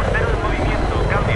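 Helicopter in the video game Battlefield 3, a steady rotor and engine drone running loud and continuous throughout, with a player voice talking over it.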